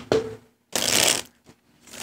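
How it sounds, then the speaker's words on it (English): Tarot cards are shuffled nearby in a few quick riffles, a crisp papery rush with short gaps between bursts. "One last shuffle"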